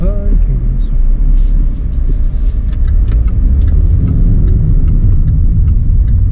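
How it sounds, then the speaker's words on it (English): A 2018 Jaguar XE's turbocharged engine rumbles loudly up close, building as it accelerates under load after brief turbo lag as the turbo spools up, with a brief voice near the start. "some turbo lag, and then the turbo spools in, and then it pulls strong"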